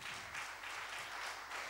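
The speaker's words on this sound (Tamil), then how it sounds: "கைத்தட்டி கர்த்தருக்கு நன்றி சொல்லுவோம்" A congregation at a Tamil Sunday church service claps together in a brief, dense burst of applause, steady and crowd-wide, heard alone for under two seconds.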